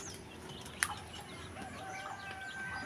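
Chickens around a rural backyard pen in the Philippines cluck faintly and intermittently, with one sharp brief squawk, at a moderate distance over quiet ambient noise.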